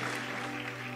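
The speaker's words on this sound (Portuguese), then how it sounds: "Dê o melhor aplauso que você puder" Church congregation applauding during a worship service, a dense, steady wash of clapping from many hands at moderate volume with no voices standing out.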